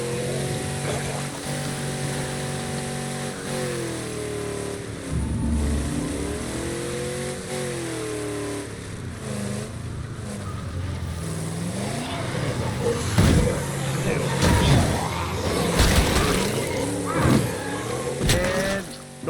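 Car engine in the video game State of Decay 2, revving and shifting pitch as the vehicle drives and accelerates, with thuds and impact noises piling up louder toward the end, steady throughout.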